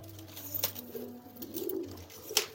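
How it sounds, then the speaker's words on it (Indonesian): Racing pigeons nearby give soft, low coos in short rolling phrases, with a few faint chirps and rustles around them; no talking. "Jadi ini merpati-merpati yang sudah siap."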